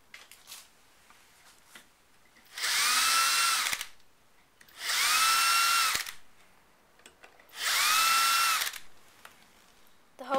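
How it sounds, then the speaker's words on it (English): A power drill whirs in three separate bursts of about a second each, drilling holes in a hinge for a bird box, evenly spaced with quiet pauses between them, close and loud. "Now we're just going to drill some holes in it."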